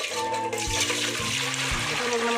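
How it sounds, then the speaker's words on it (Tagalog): Water is poured into a cooking pot to weigh it down, giving a short splashing gurgle that trickles on, with a voice faintly present. "lalagyan ko ito ng tubig para mabigat"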